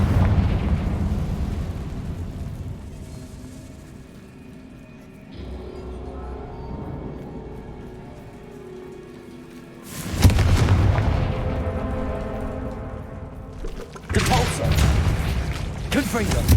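Confringo fire spells explode in Hogwarts Legacy, booming bursts that land loud and close, with two heavy blasts near the end over a rumbling game soundscape.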